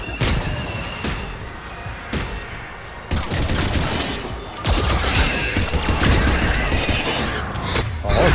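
A deployed turret fires in the sci-fi shooter Mass Effect 3 amid heavy combat: loud repeated bursts of gunfire with sharp impacts and mechanical clatter, shifting in intensity across several seconds.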